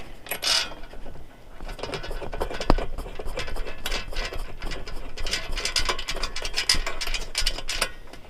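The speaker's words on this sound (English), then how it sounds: "Get this bolt started." Small metal clicks and scraping as a bolt is threaded by hand into a rear cargo basket mount on a Jeep Rubicon interior, with a sharp knock near the start and steady mechanical rattling throughout, close up and without talk.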